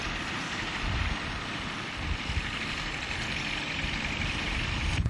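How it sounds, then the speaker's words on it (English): A Rotax light aircraft engine drones steadily throughout, a constant rumbling purr with wind-like broadband noise and no voices. "Listen to the purr of that Rotax."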